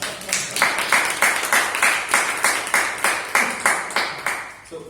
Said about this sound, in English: Have a clap for me.